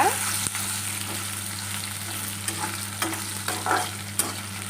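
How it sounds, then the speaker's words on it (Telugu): Chillies fry in oil in a pan for gongura chutney, a steady close sizzle with a few brief scraping stir strokes spaced out across a few seconds and no voices. "ఇప్పుడైతే మిరపకాయలు వేస్తున్నాను ఫ్రెండ్స్ ఇలా అన్నమాట"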